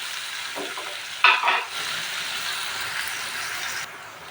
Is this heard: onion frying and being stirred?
yes